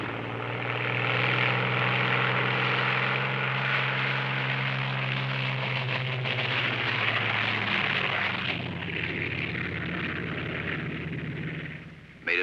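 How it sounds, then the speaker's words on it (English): P-47 Thunderbolt fighter planes taxi out with a loud, continuous propeller engine drone and low rumbling hum that shifts in pitch and eases slightly toward the end. "First pair off. Second pair taxis out."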